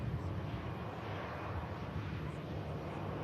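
An EasyJet airliner arriving at Manchester Airport, in from Amsterdam, gives a steady low jet roar with wind-buffeted rumble throughout, moderately distant and continuous.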